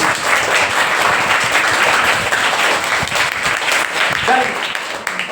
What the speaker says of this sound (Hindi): सब अपने लिए एक बार जोरदार ताली बजाइए।